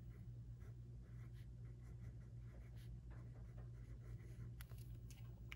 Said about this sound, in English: So I'm just going to write a to buy.